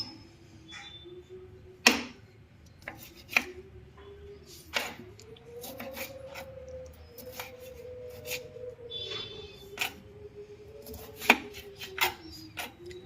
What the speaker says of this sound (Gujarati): લીંબુને કટિંગ કરી નાખીએ। એક લીંબુના આપણે 8 ટુકડા કરી નાખશું।